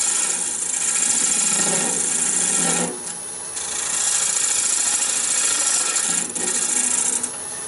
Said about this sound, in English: Take my skew and just get it on there, make sure it's flat.